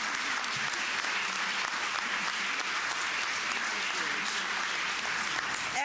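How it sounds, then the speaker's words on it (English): A large audience gives a sustained, steady round of applause at a women's economic forum at Mills College, the dense clapping holding evenly throughout with a faint murmur of voices beneath. "So give our leader a round of applause"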